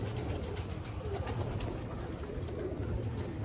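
Sialkoti pigeons coo softly with low, rolling calls that repeat steadily, set against a quiet background.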